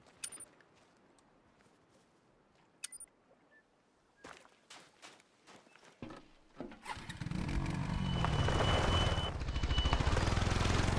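Four-wheeler ATV engine in a hunting video game, faint clicks at first, then an engine starts and builds into a loud, steady revving drone over the final seconds.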